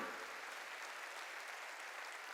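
Steady clapping from a church congregation during a sermon, even and moderately distant, continuing unbroken for a couple of seconds.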